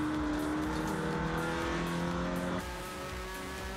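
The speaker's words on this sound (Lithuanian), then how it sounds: "akceleruoja per anksti, slysta sudrumšia Tauro Tunylos trajektoriją bei duoda priartėti Indrei" Rally cars racing on a circuit stage in Riga, engines roaring steadily at high revs as they drift and accelerate, a dense sustained engine blare that drops slightly in pitch and level near the end.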